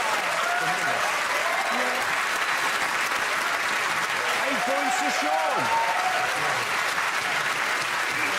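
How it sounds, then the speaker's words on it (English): A television comedy game-show studio audience breaks into loud, sustained applause with some cheering, a dense steady wash of clapping lasting several seconds while a host briefly speaks over it. "Come on, round of applause for Vitreous."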